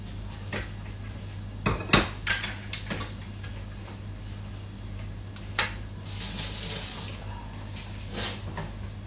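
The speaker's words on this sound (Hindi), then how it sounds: "मैंने यहाँ पे कुकर लग दिया है" Metal pans and a pressure cooker clatter and clank onto a home kitchen stove as a vegetable pulav is prepared, with scattered sharp knocks, a brief burst of running tap water and a low steady hum.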